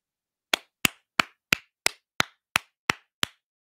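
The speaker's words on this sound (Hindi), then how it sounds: "ये ताली इस चीज पर" Nine sharp hand claps in a steady, evenly spaced rhythm, crisp and fairly close, with silence between each clap and no talking.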